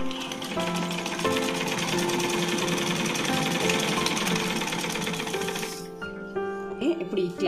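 A sewing machine stitches folded blouse fabric, a loud close rapid rattling run lasting several seconds before slowing and stopping, followed by a few soft handling clicks.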